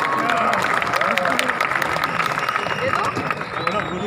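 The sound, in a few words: crowd applause for the speaker at a large event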